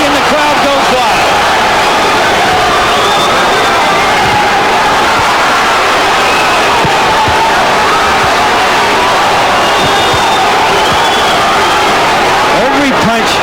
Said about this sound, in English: Tapia to the body and the crowd goes wild.